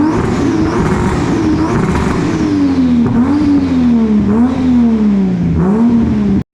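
Toyota AE86 engine revving close by, a steady idle-to-mid-range drone that swells in repeated throttle blips and falls back between them, loud and continuous with no talking.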